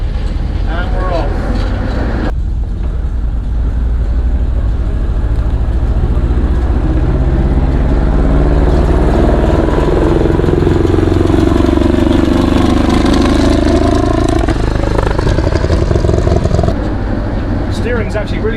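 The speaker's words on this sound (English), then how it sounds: "handbrake off, in gear, in forwards, yep," A Swedish military Stalwart vehicle's engine runs loud and close, rumbling steadily as the vehicle pulls away and drives off, with someone talking over it.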